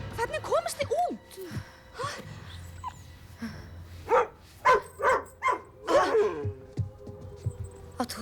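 Small dogs yip and bark in short bursts, with whimpering yelps early on and a run of several close, loud barks toward the middle, set in an animated film scene with voices around them.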